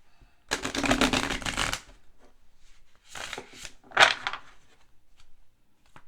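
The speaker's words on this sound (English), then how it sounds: "These have been shuffled already." Playing cards being shuffled by hand during a card trick, a dense riffling burst followed by two shorter shuffles, close and fairly loud with no talking.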